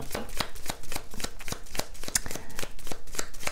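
Playing cards are shuffled by hand in quick, crisp riffling bursts, a rapid series of close, papery flicks repeating across the whole stretch.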